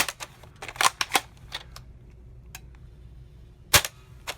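A Nerf Flipfury blaster fitted with an Orange Mod Works upgrade fires several quick, crisp close-range shots in a cluster, then one more loud snap after a quiet pause.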